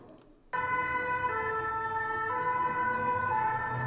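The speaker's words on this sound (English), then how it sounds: "Plusieurs cars de sapeurs-pompiers, plusieurs ambulances." Fire engine and ambulance sirens wail outside a Paris concert hall during a terrorist attack, bursting in suddenly after a quiet moment and then holding loud, sustained, overlapping tones with no talking.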